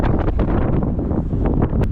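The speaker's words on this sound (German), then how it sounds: "Es windet mal wieder sehr." Strong wind buffets the microphone at a high viewpoint in Sheffield, a constant loud, rumbling roar that stays steady for the whole stretch with no break.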